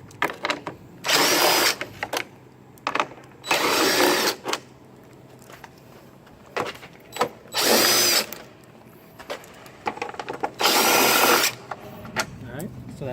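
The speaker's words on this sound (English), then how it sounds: "So if you have a power tool, this will help you a lot." A power tool driving out 10mm bolts on a Ford F-series truck during a headlight bulb install, whirring in several short loud bursts separated by pauses, with handling clatter and quiet background between runs.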